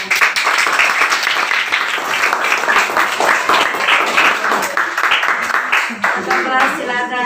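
A fifth-grade class claps hands together, a loud run of rhythmic clapping that carries on for several seconds, with children's voices mixed in.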